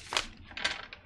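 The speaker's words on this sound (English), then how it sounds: "Add a little chaos to these cards here by shuffling them," Two quick papery riffles of tarot cards being shuffled, close and soft, with a lighter flick at the end.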